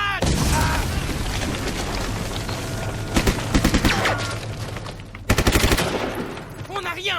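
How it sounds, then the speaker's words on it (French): Grenade blast and gunfire in a French action film: dense rattling automatic fire and booming impacts, with a heavy burst near the end, loud and close, with shouting voices mixed in. "Grenade!"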